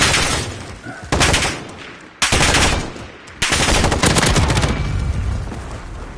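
Automatic gunfire in a shooter video game with little recoil, three long, loud bursts of rapid shots separated by short pauses.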